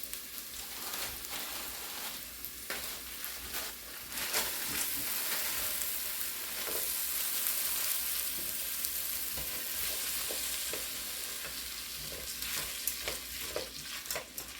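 A little over a cup of frozen peas simmer in a single pot of noodles for a tuna noodle casserole. The cooking gives a steady, close sizzle and bubbling hiss that continues throughout, with no talking.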